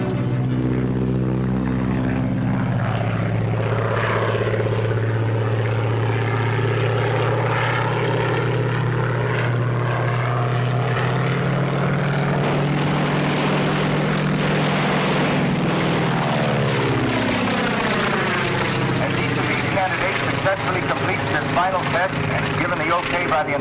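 Propeller airplanes fly over a field during a gunnery test, a loud, continuous droning roar that rises and sweeps past as the engines shift pitch. It plays from an old film soundtrack with limited high end.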